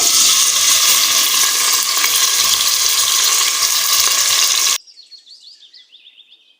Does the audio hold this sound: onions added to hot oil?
yes